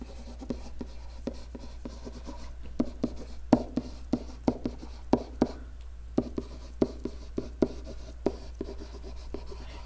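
A pen or marker writes out a math equation in close, quiet strokes, with a steady run of short scratches and taps over a faint hum.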